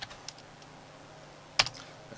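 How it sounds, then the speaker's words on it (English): Quiet computer keyboard keystrokes typing a Skyrim console command, a few soft taps with one crisper key press near the end, in a quiet room. "if you type in help Lydia, press enter"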